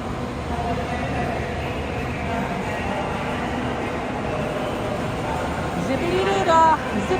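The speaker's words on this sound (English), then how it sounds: "I think that's our tram." A Disneyland tram rumbling along as it arrives, a steady broadband roar with rolling low noise and a brief squeal of brakes near the end, heard close amid a crowded outdoor setting with voices mixed in.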